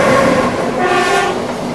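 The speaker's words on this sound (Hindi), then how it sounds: "बगल से ये कोई पैसेंजर ट्रेन निकल रही है।" Passenger train rolling past alongside another moving train near the Narmada River crossing, a loud continuous rumble with rail clatter and a sustained horn-like tone, close by and without talk.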